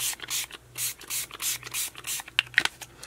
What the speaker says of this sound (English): I'm just going to spray over the top of this with both of these colors